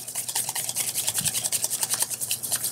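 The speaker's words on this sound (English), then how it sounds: "But what happens if we just slowly start to whisk this?" A jelly-like fruit mixture is whisked by hand in a bowl, producing a soft, rhythmic wet swishing and scraping at a quick steady pace, close and fairly quiet, without any talking.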